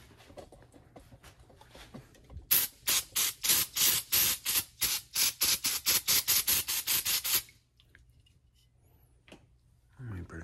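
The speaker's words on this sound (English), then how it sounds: "we'll spray this guy off" A rapid series of about twenty short spray bursts of cleaner onto a Cub Cadet 129 carburetor part, in a steady rhythm, close and loud, then quiet.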